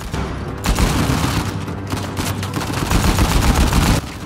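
Dense, loud bursts of automatic gunfire in an Uncharted 4 firefight, rapid overlapping shots with booming low end running nearly continuously before cutting off abruptly.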